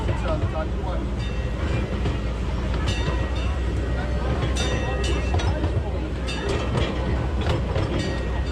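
The Legoland Express Lego train ride at Legoland Windsor rumbles steadily along its rails with a low continuous roll and faint clicking, while voices carry over the ride noise throughout.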